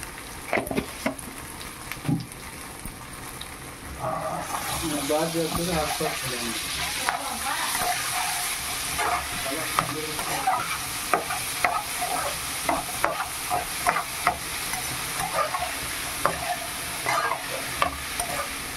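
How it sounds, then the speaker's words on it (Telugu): Potato pieces seasoned with turmeric and salt sizzle loudly in a hot pan while being stirred, with a continuous frying hiss, scraping spoon strokes and clinks, and a voice speaking briefly at the start. "ఈ బంగాళదుంప ముక్కల్ని వేసేయాలి."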